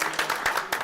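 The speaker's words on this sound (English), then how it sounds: "So a round of applause to all of you." A short patch of applause at a city school board meeting, scattered claps from a room of people heard at moderate distance.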